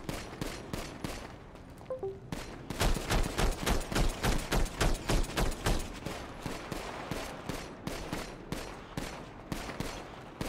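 Heavy gunfire from a video game roleplay shootout after a police raid: dense, rapid bursts of shots crackling almost without pause for about eight seconds, loud and close, following a brief quieter stretch at the start.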